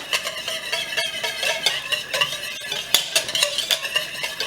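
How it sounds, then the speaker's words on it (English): A whisk beats seasoned buttermilk in a bowl with quick, rhythmic metallic clinks and scraping against the sides, loud and close, without any talking. "now this, we're just going to go ahead, give that a good whisk"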